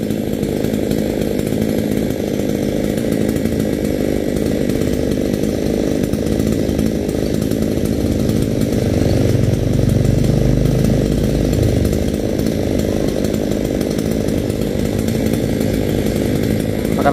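A chainsaw cuts down a dead Acacia auriculiformis tree, running continuously and loudly at close range, its engine droning steadily with a heavier, bogged-down stretch partway through.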